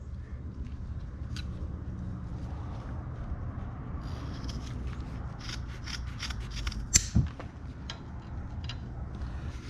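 Scissors cutting through exhaust header wrap, with a quiet series of close snips and crisp fabric crunches and a brief louder cut partway through.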